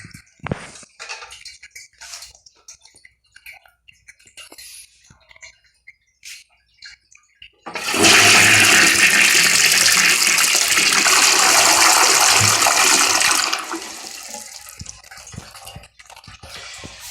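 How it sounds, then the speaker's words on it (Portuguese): A Docol Lift toilet is flushed on full flush with the larger button: a loud, steady rush of water runs for about six seconds, then drains away into quieter gurgles and drips. "Descarga total, botão maior."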